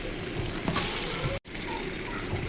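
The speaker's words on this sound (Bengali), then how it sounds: "মাংসগুলো ভেজে নিতেছি" Broiler chicken pieces frying in oil with bay leaf and tomato paste for biryani, a dense continuous sizzle close by, briefly interrupted by a cut, with no talk.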